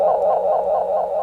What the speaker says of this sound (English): See if it does the self-oscillation thing if we turn repeats up. It does.